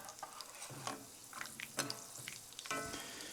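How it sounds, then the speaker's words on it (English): Peanuts frying in oil in a pan after garlic for salsa macha, a soft steady sizzle close by with occasional scraping stirs and light pops, quiet and without talk. "Now, I'll fry these peanuts just a little while."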